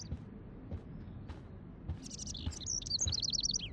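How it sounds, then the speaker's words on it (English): Indoors in the adventure game Life Is Strange, a small bird chirps in quick repeated high tweets, a few scattered calls then a bright rapid series near the end, over a low room murmur. "Can you help me get this bird out of here?"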